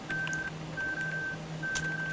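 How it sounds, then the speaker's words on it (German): Telephone dialing tones, a sequence of short steady beeps in an even rhythm with small gaps between them, clear and close, with no talking. "Ich versuche die Telefone wieder in Ordnung zu bringen, damit wir für Malcolm Hilfe rufen können"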